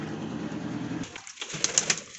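A pigeon gives a low, throaty coo close by, a short rolling burst followed by quiet rustling.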